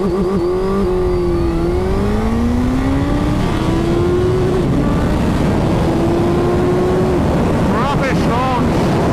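A Suzuki Hayabusa motorcycle accelerates hard in first gear, its engine note climbing steadily under loud wind buffeting, with a brief voice near the end.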